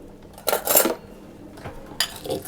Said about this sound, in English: I'm going to put all the other ingredients into the rolled oats, and I'm just going to give those a bit of a stir around